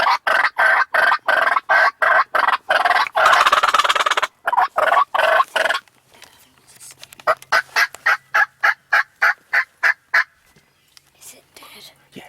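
Wild Tennessee gobbler during a youth season turkey hunt, loud rapid gobbling and rhythmic clucking pulses repeating throughout, close and dominant, with a brief lull mid-clip before the bursts resume.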